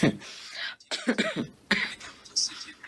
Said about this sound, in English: Sometimes I cough because maybe I left a little opening somewhere